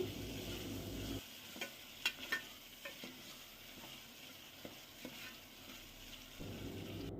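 Masala with tomatoes and green chillies fries in a pan for a country chicken curry, giving a steady sizzle broken by a few sharp stirring scrapes and clinks.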